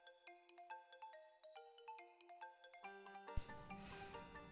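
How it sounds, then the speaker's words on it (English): A telephone rings in repeated electronic bursts, loud and alone, before a sudden thud and a noisier burst of sound cut in near the end. "Somebody answer that phone."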